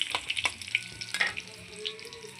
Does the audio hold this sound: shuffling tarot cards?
no